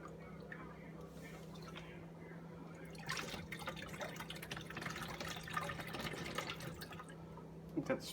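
Liquid for a homemade orange wild hog bait being poured into a jug, a faint trickling and splashing that swells partway through, with dripping near the end.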